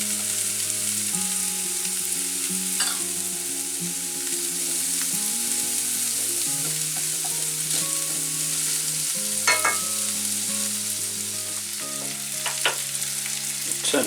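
Chorizo and garlic fry steadily in a pan, a constant close sizzle with occasional clinks of a utensil, while soft background music plays underneath throughout.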